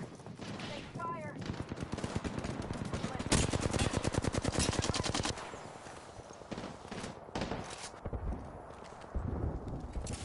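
Rapid automatic gunfire in the video game Apex Legends rattles off in dense, loud bursts, with short breaks between volleys.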